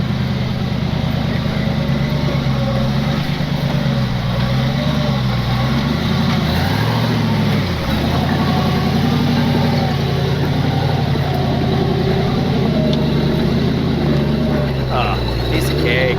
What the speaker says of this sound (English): now I'm gonna go get in my Jeep and go up the line that Jeremy got stuck in with 3-wheel drive